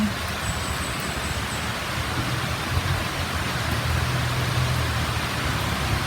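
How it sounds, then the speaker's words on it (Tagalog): Steady rain pours down in a continuous broadband hiss, dense and even throughout, with no talking. "Ayan na naman ang ulan."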